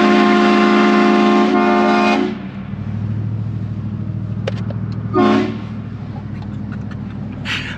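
Loud, sustained blast of a vehicle's air horns in town, followed by a quieter engine rumble and another short horn burst near the end.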